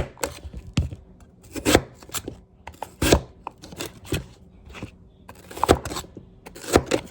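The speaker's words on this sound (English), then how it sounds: "I'm gonna use my little thing here to cut some crinkle fries" Crinkle cutter slicing potatoes into crinkle fries, a series of sharp, close chopping strokes at an uneven rhythm.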